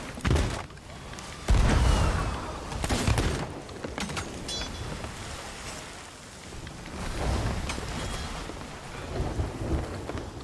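Thunderstorm in the pirate video game Sea of Thieves: heavy rain pours steadily while deep thunder rumbles and booms several times, loudest near the start and swelling again toward the end.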